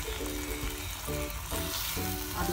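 Chopped carrots and capsicum with ketchup frying in a pan, a loud continuous sizzle and hiss with repeated stirring scrapes of a spatula against the metal.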